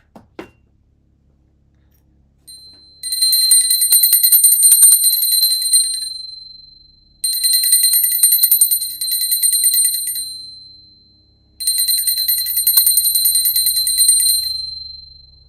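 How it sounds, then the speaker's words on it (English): A hand bell rung during a Hindu puja ritual sounds in three long bursts of bright, rapid ringing, each fading out before the next, after a soft knock at the start, with no talk. "Now I ring a bell to offer the element of sound."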